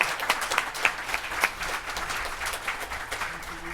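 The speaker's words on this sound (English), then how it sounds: "let's give a round of applause to both Dr." An audience at a health workforce well-being celebration claps steadily, a dense and even patter of many hands at moderate distance, with no voices over it.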